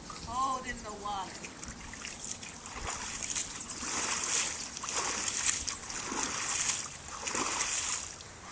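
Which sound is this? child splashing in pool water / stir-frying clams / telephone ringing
child splashing in pool water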